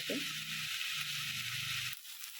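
Beans and carrots cooking in a little oil for vangi bath, a soft continuous sizzle close by with a brief stirring scrape at the start, cutting off near the end.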